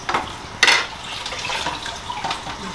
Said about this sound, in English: Let's put some water back here. I'll prime it up.